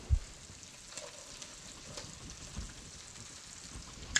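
Celery and onions sauteing in a hot pan, a faint, steady crackle and sizzle running throughout with a soft knock at the start.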